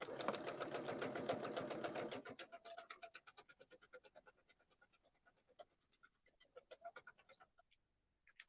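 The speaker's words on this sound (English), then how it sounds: "we're just going to go right in at the very corner here and sew straight down" A sewing machine stitches foundation paper piecing for a quilt, first in a fast, steady rattling run, then in slower, uneven bursts of individual stitches that stop and start before falling quiet.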